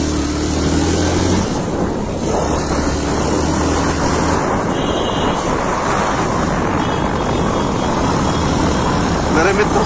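A Hero Passion XPro motorcycle engine runs steadily at close range with a continuous loud rumble, while someone talks over it.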